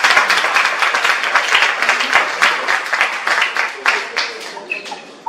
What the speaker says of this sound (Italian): le faccio ascoltare l'applauso della sala